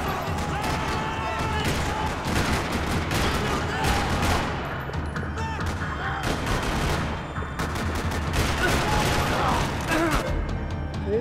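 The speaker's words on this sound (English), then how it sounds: "Another parking lot rattling with gunfire." Dense, continuous gunfire rattles through a parking lot in the video game Max Payne 3, rapid bursts and shots layered over a busy, loud backdrop throughout.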